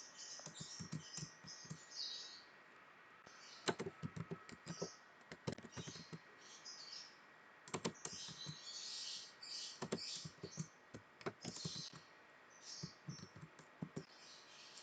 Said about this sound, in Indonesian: untuk mencetaknya kita ketikkan print